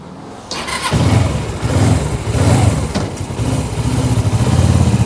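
A Suzuki GS500E motorcycle engine starts up and revs loudly nearby, rising and falling in several throttle surges as the bike pulls away, with no talk over it.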